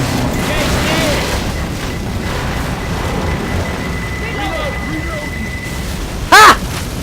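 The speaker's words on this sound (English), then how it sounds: "have a pipe bomb" A pipe bomb in the game Left 4 Dead 2 goes off as one sharp, loud explosive burst near the end, after a stretch of rumbling, noisy game ambience with a voice chattering underneath.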